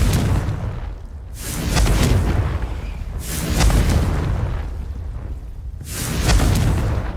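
Confringo fire spell explosions in Hogwarts Legacy, three loud, deep booming blasts arriving about every two to three seconds, each swelling and fading over a rumbling background.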